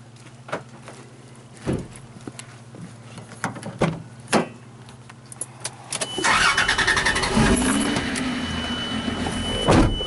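Several sharp clicks and knocks inside a car are followed by the engine cranking and catching, then settling into a steady running rumble close by. No one speaks.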